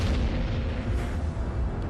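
A deep, sustained rumbling boom stands in for a star exploding, loud and continuous with no voices over it.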